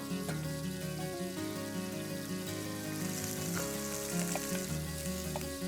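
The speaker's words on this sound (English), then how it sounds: "I'm going to be adding some ghee, some curry patta into this, some cashew, the cooked rice that I have" Ghee, curry leaves, cashews and cooked rice sizzle steadily in a pan for a South Indian pepper and cumin rice dish, a constant frying hiss with a few soft stirring clinks.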